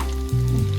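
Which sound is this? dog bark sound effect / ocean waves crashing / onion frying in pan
onion frying in pan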